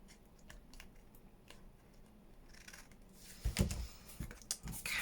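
Scissors cut through a book page, quiet crisp snips at first, then a louder, closer run of crunching paper cuts toward the end.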